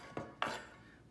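Carrots tossed into a cooking pot while making beans, two quick hard clunks of vegetables hitting metal, close and fairly soft, then quiet.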